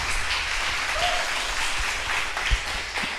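Congregation clapping loudly in a church service, a dense sustained wash of applause filling the room for a few seconds.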